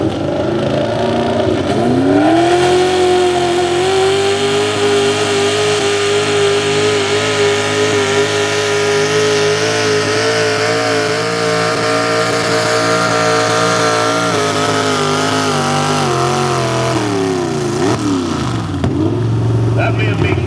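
A small block high output 4x4 pulling truck at a 2023 Appalachian Outlaws truck pull winds up to high RPM and holds a loud, sustained roaring drone for about fifteen seconds before it falls away, while an announcer talks over it.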